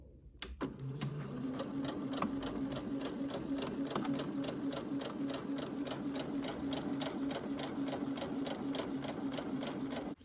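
A sewing machine runs steadily for about ten seconds, stitching the corners of a fabric pouch. It makes a fast, even mechanical whir with rapid regular clicking, heard up close with no speech.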